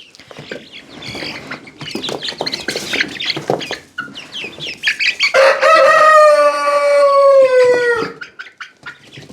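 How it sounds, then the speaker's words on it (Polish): Chickens cluck and squawk up close, then one lets out a long, loud drawn-out crow-like call before trailing off into more clucking. "Najgrubsza kura we wsi"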